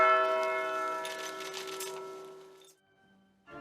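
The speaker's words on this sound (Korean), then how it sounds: "자정을 알리는 종소리가 울려 퍼지고" A church bell at Myeongdong Cathedral rings out at midnight before Christmas mass on a freezing night, its ringing tone slowly decaying, then a short silence before another strike begins.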